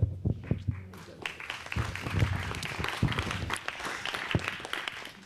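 An audience at a Santa Fe County sheriff's forum claps steadily in a sustained round of applause, a dense mix of near and distant hands with a few louder individual claps standing out.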